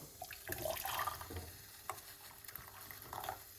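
Hot water is poured into a cup for bitter kola tea, a soft splashing trickle with small clinks and stirring sounds, faint and close, with no talk.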